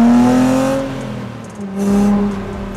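A brand-new Jannarelly Design 1 sports car's engine revs with a loud, rising and falling note. It eases off briefly mid-way, then swells again.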